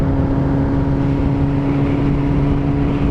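A Suzuki Hayabusa fitted with a Brocks exhaust cruises on a highway ride, giving a close, steady, humming engine note with deep exhaust rumble and constant wind hiss, no talk.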